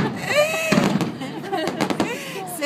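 Fireworks burst over Monaco in a quick series of sharp cracks and booms, with people talking loudly and close by over them.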